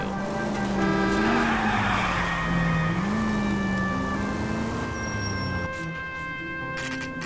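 A car in L.A. Noire drives hard with a steady engine drone and long, wavering tire squeals from skidding, loud and continuous throughout, easing slightly near the end.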